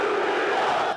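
A large crowd of protesters in Sulaymaniyah, Iraqi Kurdistan, a massed roar of many voices shouting together, steady and loud for about a second before cutting off.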